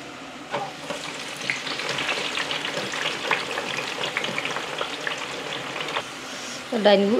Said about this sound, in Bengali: এখন আমি বেরেস্তার লাগি পেঁয়াজ আমি আমার ফ্রায়ারও দিলাম চিপস ফ্রায়ারও